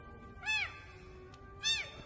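A cat meows twice, each a clear rising-then-falling call about a second apart, close by against a quiet background.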